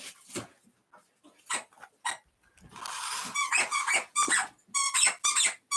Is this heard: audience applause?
no